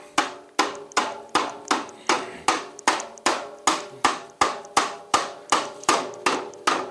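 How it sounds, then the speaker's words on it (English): A hammer taps the end of an ABS pipe being fitted onto a snow plow blade, about sixteen sharp, evenly spaced knocks in a steady rhythm, close and clear with no talking. "I'll tap the end with a hammer."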